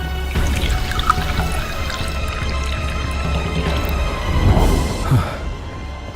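Water is sprinkled and poured onto a small mound of soil, with steady splashing and dripping that swells toward the end, close and fairly loud.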